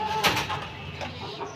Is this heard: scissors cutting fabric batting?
no